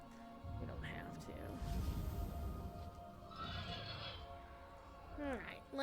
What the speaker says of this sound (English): Just gonna ride a big, goofy dragon horse.